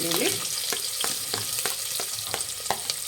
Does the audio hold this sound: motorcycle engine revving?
no